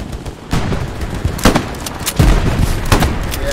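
Gunfire in the World War II shooter Hell Let Loose, a handful of loud, close shots and booming reports spread across a few seconds over steady battlefield rumble.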